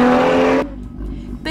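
A BMW M2 Coupé 2016 with a twin-turbo six-cylinder engine runs on a track, its loud, close engine droning steadily before cutting off abruptly, leaving a lower rumble.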